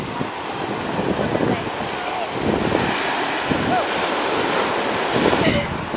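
Ocean waves wash ashore at a French Riviera beach in Nice, with steady surf and gusty wind buffeting the microphone throughout; the roar rises and falls in broad swells, and a voice talks faintly beneath.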